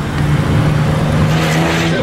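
Race cars in a non-contact heat race at Kings Park Speedway, a steady loud engine drone with a sustained low tone throughout, no clear passes or gaps.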